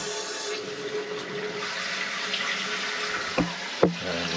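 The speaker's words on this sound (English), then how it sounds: "first I'm going to turn on the water" Water runs steadily into a toilet tank through a Fluidmaster Universal Performax fill valve, a continuous hissing rush at close range with a couple of brief knocks near the end.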